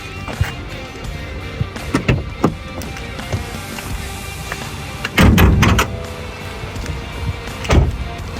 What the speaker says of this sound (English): Now let's take a look under the bonnet.